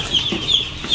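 Broiler chicks in a poultry house keep up a steady high peeping, many thin overlapping cheeps from a crowded flock close to the listener.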